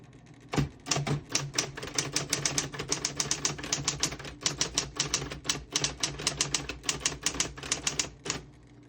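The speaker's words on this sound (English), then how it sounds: "I'll type a sentence in red on the next line." A 1960s Smith-Corona Coronet Electric portable typewriter types in red ink, a fast, rapid run of crisp, evenly spaced key strikes close up, with brief pauses between bursts.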